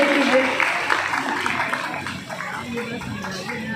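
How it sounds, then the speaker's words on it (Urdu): An audience at a school rally claps in a dense, steady round of applause that gradually thins, with voices talking over it. "تالی بجائیے سب لوگ، بچے کے حوصلہ افزائی کیجیے۔"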